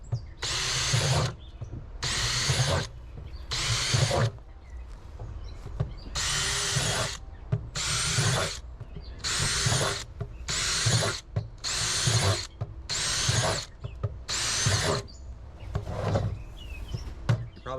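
A power drill boring holes into a plastic container for a garden, in a long series of loud, close bursts of whining drilling, each a second or so long and separated by short pauses.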